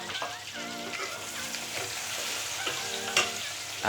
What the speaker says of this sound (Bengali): আমরা গরম তেলে এখন দিলাম পেঁয়াজ কুচি